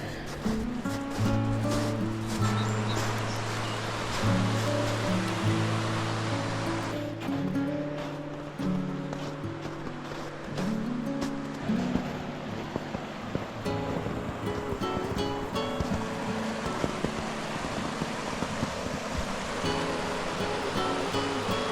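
Floodwater rushes steadily through a creek crossing beside a beaver dam, a constant wash of flowing water with a low, droning tonal hum running underneath.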